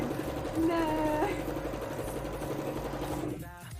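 A sewing machine stitches the pant line of a custom mannequin, its steady whirring run carrying on for a few seconds beneath a person talking, then cutting off near the end.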